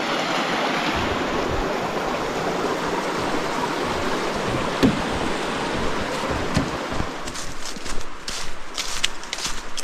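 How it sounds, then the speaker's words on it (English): The Middle Saluda River flowing in the Mountain Bridge Wilderness, a steady broadband rush of water close by, with a few brief clicks and footstep-like knocks near the end. "And this is the Middle Saluda River."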